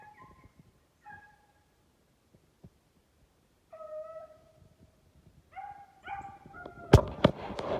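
Beagle hounds on a hare's scent give several separate high, drawn-out bays and yelps, sparse at first with pauses, then crowding together into louder overlapping cries near the end.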